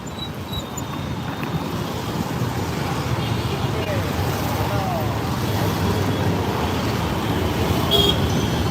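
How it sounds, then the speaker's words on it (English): Heavy traffic roars along a wide road in Hyderabad, India, with four lanes each way: a dense, continuous wash of engines with a faint horn toot, under someone speaking. "it's like 4 lanes of traffic on each side you got to try to cross"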